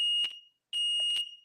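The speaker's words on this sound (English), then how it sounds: "My fire alarm is going off." A household smoke alarm sounds two long, piercing, high electronic beeps close by, separated by a short silent gap.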